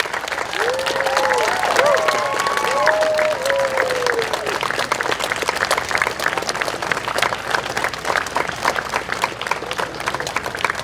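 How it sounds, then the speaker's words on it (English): Sustained applause from a high school graduation audience, dense clapping with some cheering that fills the room for the whole stretch, while a distant voice briefly rises above it early on. "I would ask the class at this time to extend a round of applause as a gesture of thanks."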